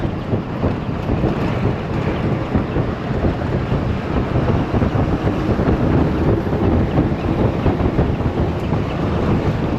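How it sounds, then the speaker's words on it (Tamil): Steady, heavy wind roar buffets the microphone on a moving bus on the Ghandruk road in Nepal, a dense low rumble with no pauses, loud and close. "பஸ்ஸு மூவ் ஆக வந்து பார்த்திங்கன்னா காற்று ஓவராக அடிக்க ஆரம்பிச்சிடும்"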